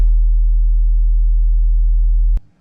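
Steady low 40 Hz test tone played through a CRX passive radiator speaker, a loud continuous hum that cuts off abruptly near the end, with no talking.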